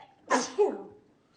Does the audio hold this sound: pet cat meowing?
no